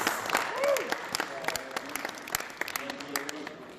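An audience claps at a wrestling honor event, scattered hand claps rising and thinning over a few seconds while someone talks over them.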